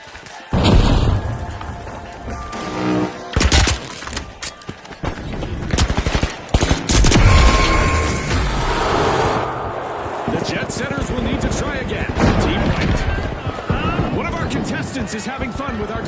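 Gunfire and grenade blasts in The Finals video game: rapid shots, thuds and booming explosions in a dense, loud mix, with voices calling out over the action.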